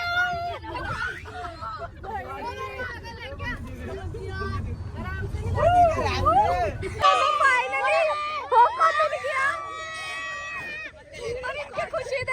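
Children shriek and chatter excitedly in a crowded car on the way to Hocco for ice cream, several voices overlapping in a loud, continuous hubbub with a low engine rumble beneath.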